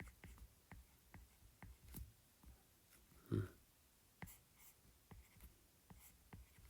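A pen scratches out a simple drawing of a person, quiet tapping and short strokes in an irregular rhythm with one louder knock, faint and close, with no talking over it.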